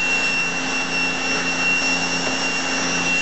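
A model turbine spins at about 5,500 RPM, giving a steady, loud whine with a sustained high tone over a constant airy rush, unchanging from start to finish.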